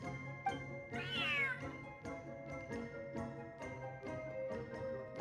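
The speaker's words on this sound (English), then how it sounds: "Whoa, this cat is way bigger than the others." A large cat in Genshin Impact meows several times, one long rising call followed by shorter repeated mews, close and clear over quiet game background.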